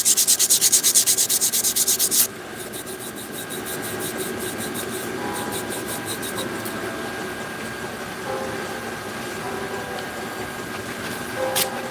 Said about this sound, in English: So I'm pretty meticulous with my sanding.